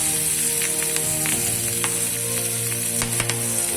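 Grated garlic and three green chillies sizzle steadily in a pan with a little oil, a close continuous frying hiss with a few light stirring scrapes.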